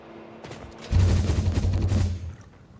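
A hypertube cannon launch in the video game Satisfactory, a sudden loud whooshing blast that rumbles and rattles for about a second and a half before fading.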